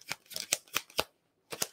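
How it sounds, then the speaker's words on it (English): Tarot cards riffled and shuffled by hand, a quick run of crisp papery bursts, a brief pause, then two more close riffles, with no talking. "We'll do one round of shuffling like this."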